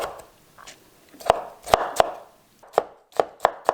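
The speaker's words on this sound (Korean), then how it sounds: "피클의 가운데 부분을 잘라냈으면 요거를 이렇게 큼직큼직하게 썰어주시면 돼요" Knife chopping a pickle into large chunks on a cutting board for triangular kimbap, with sharp, close thuds in two uneven bursts separated by a brief pause.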